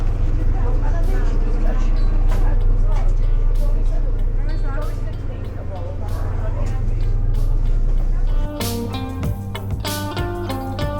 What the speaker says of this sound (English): As we depart Wolverhampton bus station on the number 10